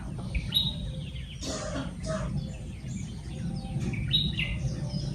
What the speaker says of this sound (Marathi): पक्ष्यांचा आवाज येतो मित्रांनो, चिमणी वगैरे ओरडते.